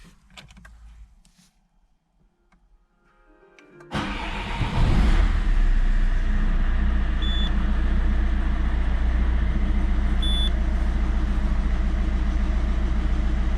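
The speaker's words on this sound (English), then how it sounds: "so now I'm going to start the engine." A Peugeot 407 2.0 HDi diesel cranks and fires after a few quiet seconds, then settles into a steady, close, loud idle with a continuous low rumble and diesel clatter, no talking.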